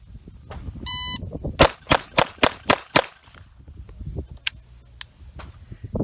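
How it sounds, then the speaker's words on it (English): A Beretta 84 Cheetah pistol fires a quick string of six sharp, loud shots in even rhythm, set off by a short electronic shot-timer beep just before, with a few fainter shots and clicks trailing afterward. "Let's go shoot the Gabe White standards with it"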